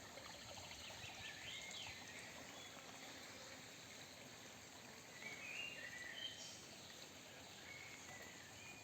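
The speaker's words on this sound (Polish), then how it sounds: "Kojący dźwięk wody płynie sobie małym strumieniem." A small stream trickles and burbles steadily, soft and continuous, with a few faint bird chirps in the background.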